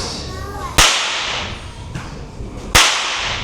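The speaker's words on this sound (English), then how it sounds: "So there's 2 methods that we use to crack the whip to make sure it's going." Two loud, sharp whip cracks ring out close by, about two seconds apart, at an Australian whip cracking demonstration with a horse, each followed by a brief decaying tail and no talk.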